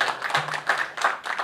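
An audience at a religious lecture applauds briefly, a few bursts of hand clapping heard at a moderate distance.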